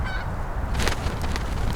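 Harsh chattering calls of magpies mobbing a kestrel in an urban park, a couple of loud raspy bursts over a continuous low background rumble.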